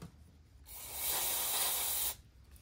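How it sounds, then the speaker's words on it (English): An aerosol can of degreaser sprays a single loud hiss lasting about a second and a half on an engine pin during a valve timing repair, rising sharply then cutting off cleanly, with quiet workshop background around it. "I'll give it a spray of degreaser."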